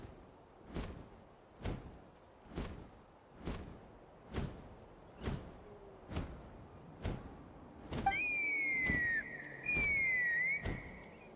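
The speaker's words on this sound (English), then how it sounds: "That sounded like a whistle." A whistle blown to summon a Kukasaur sounds twice near the end, thin and sustained with a falling pitch, after a run of evenly spaced, regular thumps.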